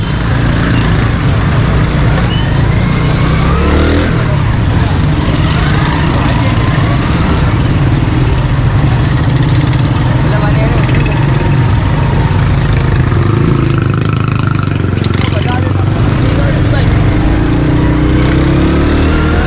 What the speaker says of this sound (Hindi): मोटरसाइकिल गुजारते हैं।